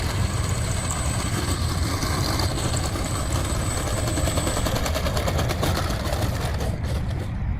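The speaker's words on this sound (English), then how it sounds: "She taxis very well for being a tail dragger." An E-flite Spitfire Mk XIV 1.2m RC model tail-dragger taxis on the ground, giving a steady, close electric motor and propeller whir with a high whine over broadband noise throughout.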